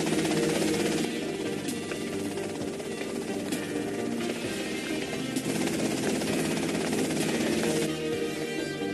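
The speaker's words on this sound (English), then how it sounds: "that's them in the chopper" Helicopter in GTA Vice City, a continuous thick rotor and engine drone that holds steady and fairly loud, with a few sharp cracks scattered through it and no voices.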